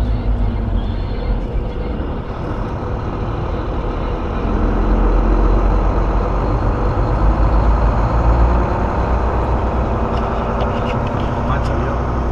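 Trucks idle and pull around a Houston, Texas truck stop, making a continuous deep diesel rumble that swells slightly midway, close and loud, with a voice over the engine noise.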